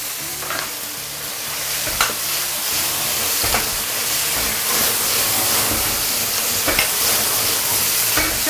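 Pea shoots, wood ear mushroom and pork kidney stir-fried in a wok over the highest heat, a steady loud sizzle with scraping stirs and occasional clanks of the spatula throughout.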